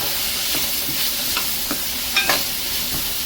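Onions frying in a pan, a continuous close sizzle with a few soft stirring scrapes and taps from a spoon, steady throughout and without speech.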